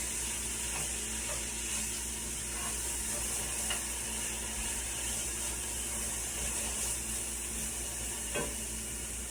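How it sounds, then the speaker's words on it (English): Garlic, ginger and onions sweat in a pan for rice porridge, stirred with a rubber spatula, giving a steady low sizzle with faint scraping strokes throughout, close and alone with no talking. "so now it can sweat our garlic, ginger, and onions. So I'm going to take a rubber spatula and stir it around"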